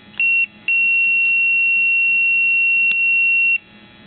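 A steady, high electronic tone from a multimeter's continuity tester as the probes charge a capacitor: one short beep, a brief gap, then a long sustained beep of about three seconds that stops abruptly.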